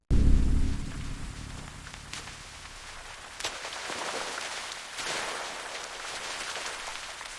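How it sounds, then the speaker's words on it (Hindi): Heavy rain pours down steadily in a broad, hissing wash that stays fairly loud throughout, with a strong low rumble at the very start and a few brief bursts partway through. "तेज बारिश हो रही थी, हवा भी बहुत ठंडी थी,"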